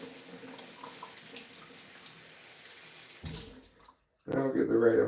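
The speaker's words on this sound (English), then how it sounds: "Now we'll put water in." Water pours steadily from a tap into a container for about three seconds, then briefly surges and cuts off, followed by a short silence and then a person speaking.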